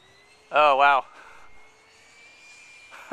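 A radio-controlled Alpha Jet with a 68mm electric ducted fan flies aerobatics, its fan whine rising and falling as it passes, under a short loud burst of a voice and fainter background sound.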